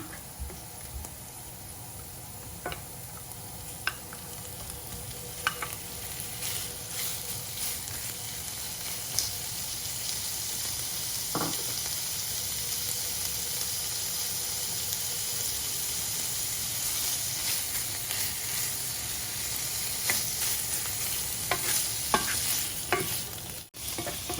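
Beef frying in a pan for a cream penne sauce, a continuous close sizzle and crackle with occasional utensil clicks and stirring scrapes throughout, no talking.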